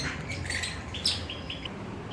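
Pet birds in a cage chirp in a quiet indoor setting, a scatter of short, bright tweets and calls overlapping each other at moderate distance over a soft background hush.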